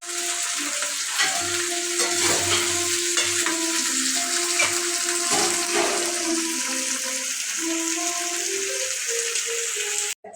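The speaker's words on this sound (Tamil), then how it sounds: "இதை நாங்கள் இனி எண்ணெயில் போட்டு பொரிக்க போகிறோம்." Continuous sizzling of chicken frying in hot oil, crackling and bubbling steadily close by, with a few low clunks near the start.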